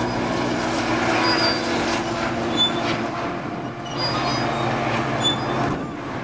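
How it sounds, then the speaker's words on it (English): A Coaster commuter train rolls past on the rails, a loud, steady close rumble of wagons and wheels with faint squeals, heard without talk. "It's very exciting to see a coaster run on a Sunday."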